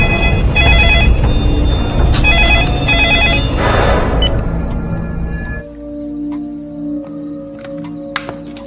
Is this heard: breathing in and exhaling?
no